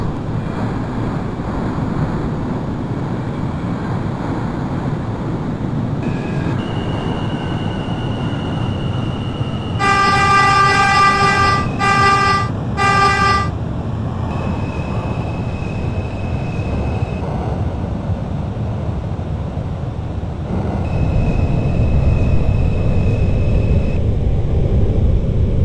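An R160A-1 F subway train in the OpenBVE simulator rumbles steadily along the track, loud and constant, with a tonal horn-like blast sounding in short bursts midway and other electronic tones appearing briefly.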